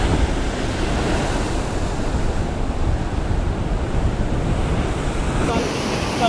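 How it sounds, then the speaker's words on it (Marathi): Ocean waves surging and breaking on a seashore during a fishing outing, a steady loud wash of surf with wind buffeting the microphone throughout. "ते बघा लाट डेंजर येतं."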